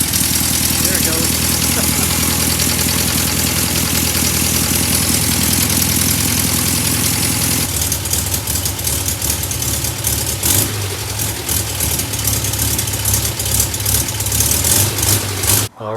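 A VW Beetle engine runs right after a tune-up with a loud, continuous idle; partway through, its tone turns rougher and more uneven, with brief revving.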